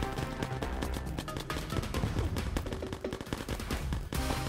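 Pirates firing guns in the Necesse video game, a dense, continuous volley of rapid shots layered over game music, loud and unbroken for the whole stretch.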